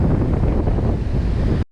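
Ocean waves break on a flat, shallow beach in a loud, continuous rushing roar, with wind buffeting the microphone throughout before the sound cuts off abruptly.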